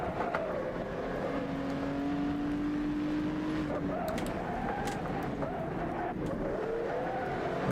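A period GT racing car in rFactor 2 on the Goodwood circuit, its engine droning and revving steadily up close while the tyres squeal and rumble under braking, with no talking.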